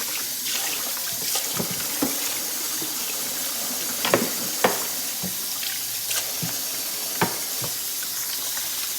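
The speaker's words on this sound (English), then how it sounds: "We're going to wash some dishes." Tap water runs steadily into a sink during dishwashing, a constant close hiss broken by scattered clinks and knocks of dishes being handled.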